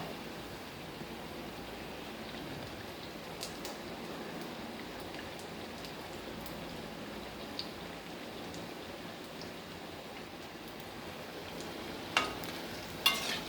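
Onion bhaji deep-frying in hot oil while being turned over and over, a steady close crackling sizzle throughout, with a couple of louder splutters near the end and no talking.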